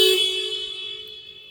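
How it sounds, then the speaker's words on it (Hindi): A 2023 Honda Amaze S variant sounds its horn once, a loud close blare that slowly fades while still ringing, with nobody talking. "गाड़ी की हॉर्न सुना देता हूँ एक बार मैं आपको।"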